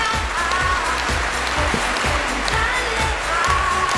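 Studio audience applauding as contestant number six is welcomed onto a televised matchmaking show; a dense, steady clapping wash lasting several seconds with a faint rhythmic thump underneath.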